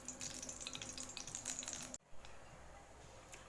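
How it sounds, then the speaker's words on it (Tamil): Close crackling and popping of mustard seeds spluttering in hot oil in a kadai, busy for a couple of seconds, then dropping to a quieter sizzle. "எண்ணெய் காஞ்சவுடனே கடுகை போட்டு பொரிய விடுங்க."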